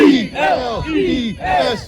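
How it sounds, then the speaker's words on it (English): At a field dedication ceremony for Chris DiLissio, a crowd chants an Eagles cheer, the loud voices spelling out letters in rhythmic, drawn-out syllables that rise and fall together. "This moment can't go by without an Eagles cheer because that's how he was."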